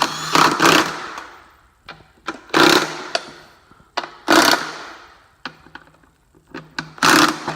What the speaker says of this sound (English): Now we just hammer those bolts down